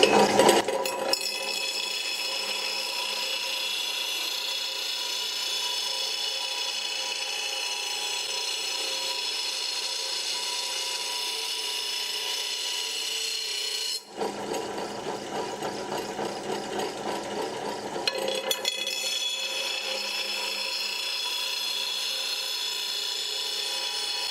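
Bench grinder sharpening a rotary lawn mower blade to a hollow grind: a steady, loud high-pitched grinding whine runs throughout, with a brief change in tone midway as the blade is shifted against the wheel.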